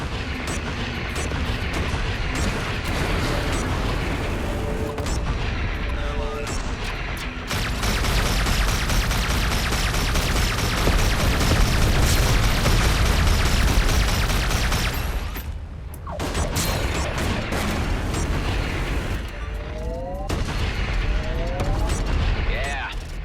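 Sustained ship weapons fire and booming explosions while shooting up and blowing apart an outlaw base in the space game EverSpace 2, loud and continuous with mechanical whirring, a brief drop midway, then more blasts.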